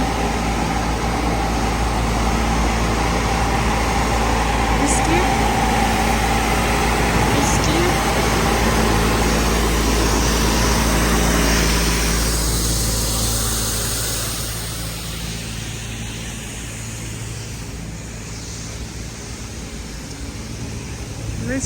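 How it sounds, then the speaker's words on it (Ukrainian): Steady engine noise from small street cleaning machines in a city centre rumbles continuously, loud and close, easing slightly toward the end as the vehicles move off. "працюють отакі ось невеличкі прибиральні машинки, чистять, миють"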